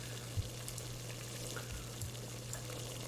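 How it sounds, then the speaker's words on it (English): Steady bubbling and hissing of water at a rolling boil, played as an ambient sound in a SteamVR environment, with a low constant hum underneath and a few louder pops. "I can hear the boiling water file, which I have linked it to."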